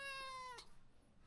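A single high-pitched meow from an abandoned kitten found in front of a house, clear and close for about half a second, then fading into faint background noise.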